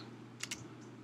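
Two quick keystrokes on a computer keyboard while a command is entered, soft and close against a quiet room hum.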